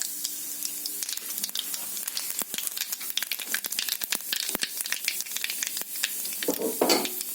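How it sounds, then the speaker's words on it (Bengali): Nigella seeds (kalo jira) crackle and sizzle in hot oil in a home Bengali kitchen, a dense stream of sharp pops and spits close by, building in intensity toward the end. "তো বন্ধুরা আমি একটু কালো জিরা দিয়ে দিলাম।"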